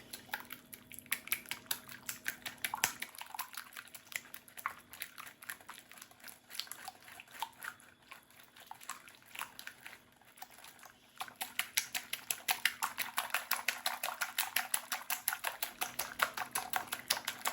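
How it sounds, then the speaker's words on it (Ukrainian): Egg yolks being whisked in a bowl for an Omelette Poulard, a fast, steady rhythmic tapping of the whisk against the bowl that pauses briefly and then picks up again, close and clear with no talking. "Збиваємо трошки наші жовточки"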